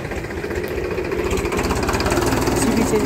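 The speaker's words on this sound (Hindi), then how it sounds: "सीधे ट्रैक्टर गुजरता हुआ" A tractor engine passes close by with a steady, throbbing mid-to-low rumble. The sound stays loud and continuous, with a faint rattling pulse.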